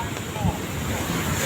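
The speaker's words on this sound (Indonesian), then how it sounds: "Jalan raya penuh sama pasir. Ombak jalan raya." Ocean waves surge onto a sand-covered coastal road at Anyer beach, a broad roaring wash of surf mixed with heavy wind noise on the microphone, brief and continuous.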